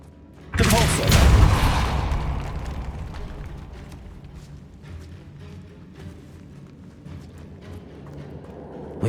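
The Depulso force spell cast in Hogwarts Legacy lands as a sudden loud, deep boom that rumbles and slowly fades, leaving low game ambience afterward.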